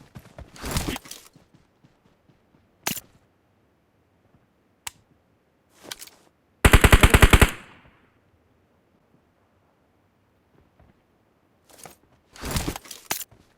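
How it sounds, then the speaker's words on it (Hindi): Gunfire in the mobile battle royale game BGMI: scattered single shots and short bursts, including one dense rapid burst, with long quiet gaps between them and no talk. "अरे उस पर फायर क्यों कर रहे हो, पीछे आ जाएगा।"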